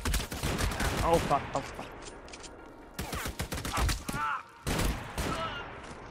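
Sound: gunfire in played footage

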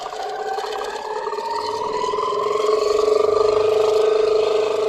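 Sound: longarm quilting sewing machine stitching

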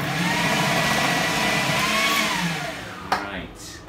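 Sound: food processor chopping onion

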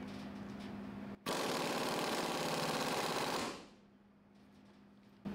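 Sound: pneumatic impact wrench tightening body cap

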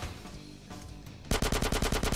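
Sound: gunfire in video game GTA San Andreas

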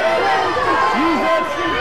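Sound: rugby crowd cheering at Sale FC vs Rotherham match

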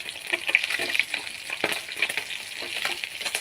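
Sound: fish frying in a pan

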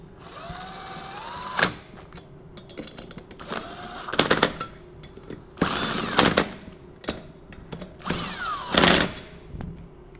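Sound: impact driver on Kohler Courage small engine

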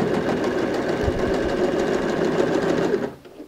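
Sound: sewing machine stitching bag lining edge

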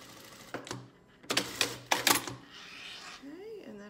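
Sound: sewing machine top stitching a pillow seam

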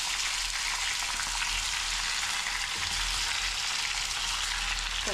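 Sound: taro pieces and curry leaves frying in a pan

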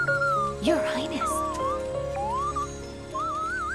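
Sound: slide whistle sound in video game Hyrule Warriors: Age of Calamity

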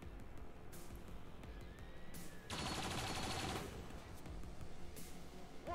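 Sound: gunfire in the video game XCOM 2: Long War of the Chosen

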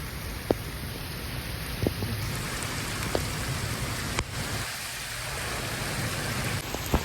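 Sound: heavy rain

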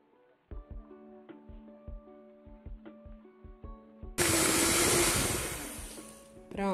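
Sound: electric hand mixer beating cake batter

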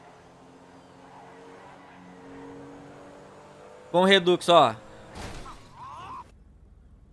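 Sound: car crash in GTA 5 with the Redux mod, from a video game

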